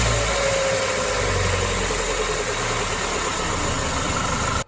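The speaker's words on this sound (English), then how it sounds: "Okay, so with the engine running, we have this throttle here." A Toyota 2E engine runs steadily at idle with a sticking throttle, a continuous close, loud mechanical hum with faint vibration that holds evenly before cutting off abruptly at the end.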